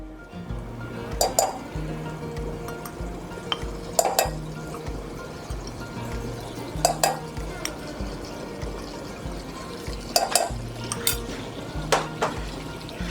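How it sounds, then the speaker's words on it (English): Butter and flour, four tablespoons each, stirred together in a pan into a roux for gravy. Metal utensil scrapes and clinks against the pan in a loose rhythm about every three seconds over a steady low background hum. "you'll melt that all together until it forms a nice sandy paste"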